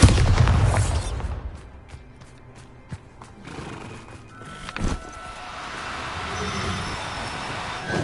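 Blasting spell explosions from the Bombarda curse in Hogwarts Legacy, a heavy low boom at the start, then sharp impacts and a rumbling burst near the middle over a steady game ambience.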